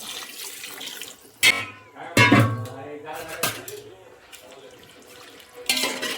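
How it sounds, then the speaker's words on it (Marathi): Water is poured into a pot of marinated chicken for biryani, heard as a few short, loud splashing gushes between quieter stretches, with a voice talking faintly at times. "ह्यामध्ये घालायचं आहे शिजण्यासाठी पाणी."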